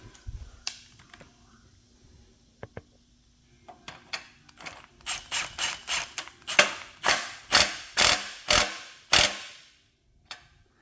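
A ratchet snugs a 22 mm nut onto the steering stem of a Honda TRX250R frame, giving several rapid bursts of ratcheting clicks in a steady rhythm, close and fairly loud after a quieter stretch of light workshop handling.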